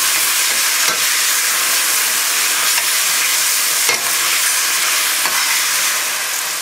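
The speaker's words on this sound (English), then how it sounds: "Give it a stir." Beef and Chinese vegetables with soy sauce and hot sauce hiss loudly in a hot pan, a dense, steady sizzle with a few scraping knocks from stirring, close and continuous with no voices.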